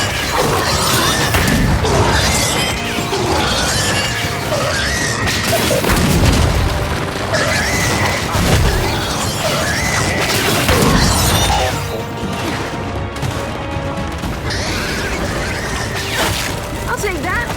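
Frag grenade blasts in the Gears of War video game, with heavy booming bursts rolling through dense game action, music and effects across the stretch, loud throughout with game voices underneath.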